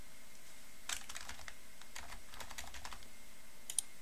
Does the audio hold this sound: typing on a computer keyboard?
yes